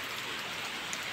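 Steady rain falls in a rural Odia village, a dense, even hiss with no pauses or separate drops over a brief span, and nobody speaks.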